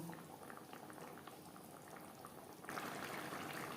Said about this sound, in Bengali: গ্রেভির সাথে মাছ আরও চার পাঁচ মিনিট রান্না করব